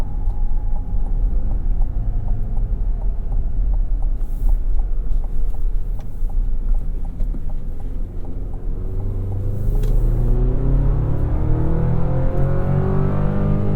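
Engine of a 2023 GMC Canyon pickup rumbling steadily from inside the cab, its pitch rising and shifting as a lower gear is manually selected, loud and continuous without voices.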